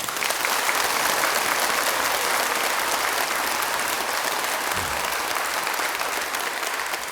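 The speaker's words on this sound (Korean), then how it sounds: "박수 한번 치세요" Sustained, dense applause from a large congregation at a Buddhist temple Dharma talk in Busan, a steady wash of clapping that carries on evenly with little talk over it.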